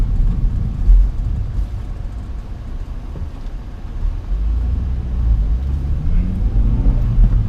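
Honda Accord Type S CL9 being driven, a steady low engine rumble with road noise heard from inside the cabin, swelling slightly as it pulls harder toward the end, with no talking.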